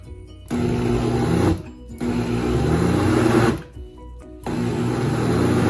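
A kitchen blender runs in loud bursts, blending Haitian lalo (jute leaves) down fine; the motor whirs steadily, cuts out briefly twice, then restarts, with no talking.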